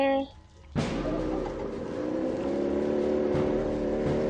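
In the Granny Chapter 2 video game, a boat engine bursts into life with a sharp start and settles into a loud, steady running drone. A brief tonal game sound comes just before it.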